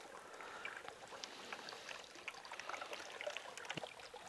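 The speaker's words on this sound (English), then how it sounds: "And now we've got a tiny trickle of water coming down from this one." In a soil erosion demonstration, a tiny trickle of water runs down from a soil sample, making a faint, steady dribbling and splashing sound with small irregular drips.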